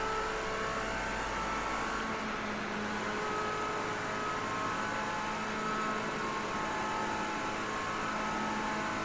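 The engine of a 1971 Ford Escort RS1600 in Project Cars 2 revs hard and steadily near its red line, a continuous loud racing drone with no speech.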